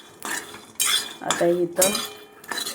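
Green chillies being finely chopped with a knife, several distinct knife strikes against a board in an uneven rhythm, close and clear, with brief speech near the start.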